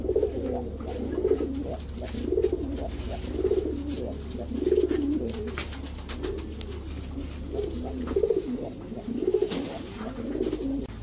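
Pigeons at a market coo repeatedly in rolling, rhythmic bursts close by, several birds overlapping over a steady low hum.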